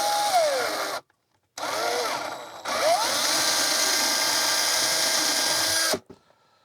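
A power drill bores out a rivet in an Apple II power supply case, three close, loud whining bursts separated by short pauses, the motor pitch dipping as the bit bites, then a few small clicks at the end.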